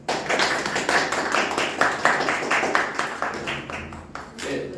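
A lecture audience applauds after a talk on energy geopolitics and war, a dense burst of close clapping that gradually thins and fades toward the end.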